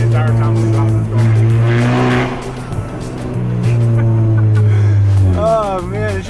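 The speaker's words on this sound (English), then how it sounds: "it just sounds like an old school race car, honestly" A hard-driven hot hatch, Focus RS or Golf R, rasps loudly as its engine and exhaust rise and fall through the revs, a steady raw drone with pitch sweeps, voices talking over it inside the cabin.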